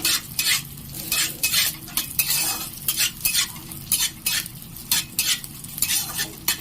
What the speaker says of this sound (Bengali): ঘিটি গরম হয়ে গেলে আমি কাজুগুলো দিয়ে দিলাম, তার সাথে কিশমিশ দিয়ে দিলাম।